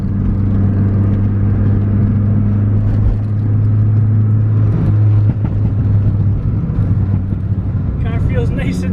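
Steady engine hum from inside the cabin of a boosted Honda Civic on coilovers, with a low drone and tire noise as it drives around corners; a voice talks over it.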